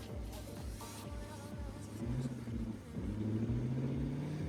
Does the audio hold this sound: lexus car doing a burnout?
yes